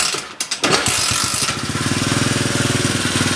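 A Polaris Sportsman ATV engine, swapped from 335 to 500, cranks a few times, catches with a sputter, then settles into a fast, even idle rumble nearby.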